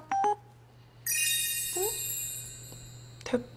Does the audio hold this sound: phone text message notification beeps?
yes